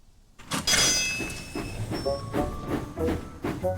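A cartoon steam engine in a Thomas and Friends kids' cartoon rumbles and clatters along the track with rhythmic clacks and a hiss, fairly close and steady, with no voices.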